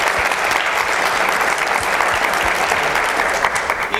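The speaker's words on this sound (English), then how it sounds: "I want to give a big round of applause to our panelists" An audience applauds panelists at a Texas panel session, a dense, steady wash of clapping from a large room that holds at an even loud level throughout.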